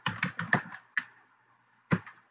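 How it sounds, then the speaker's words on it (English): Typing on a computer keyboard: a quick burst of close, crisp key taps followed by two isolated presses after a short pause, quiet and alone. "So I'm just going to type"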